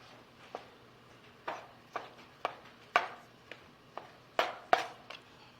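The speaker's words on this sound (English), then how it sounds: "So after which we will cut in smaller pieces." Knife chopping salsa ingredients into smaller pieces on a cutting board, a series of sharp, separate taps at an uneven pace, close and fairly quiet.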